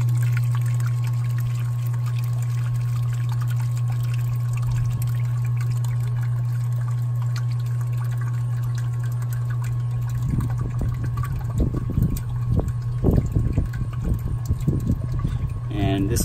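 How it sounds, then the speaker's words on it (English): Water pumped into a mash of brewing grains on brew day, a constant low hum of the running pump with a steady flow, joined later by irregular splashing and gurgling bursts near the end. "So I will turn the pump on just a little bit, just to get some more water in there until all the grains are covered."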